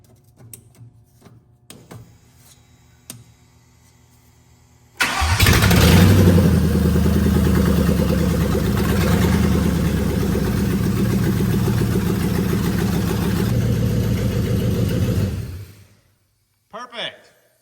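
A homemade Batmobile Tumbler's engine cranks and fires, then runs loud and steady with a rough, rumbling idle for about ten seconds before cutting off, with quiet clatter beforehand.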